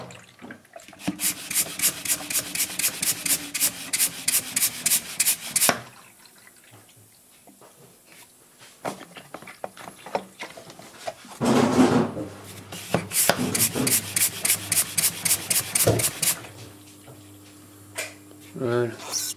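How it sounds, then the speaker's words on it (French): A Silverline hand pump drawing coolant from a 2006 Audi A3 2.0 Sportback, heard as fast regular strokes in two long bursts separated by a quieter gap, close and fairly loud. "et on va pomper."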